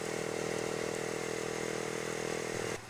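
A Honda CBR 150 motorcycle engine holds a steady, buzzing drone at high revs while riding, loud and close, then drops off sharply at the end.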